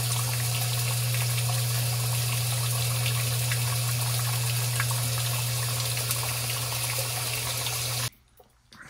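A washing machine fills with hot water on its cold cycle, a steady loud rush of water with a low hum running for about eight seconds before cutting off abruptly.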